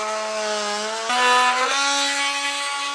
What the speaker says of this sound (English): again, using my multi-tool here